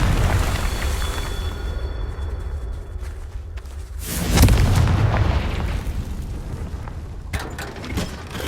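Confringo spell explosion in the Hogwarts Legacy video game: low rumbling and a faint tonal hum give way to a loud burst with a deep boom, followed by crackling debris and a few sharper pops.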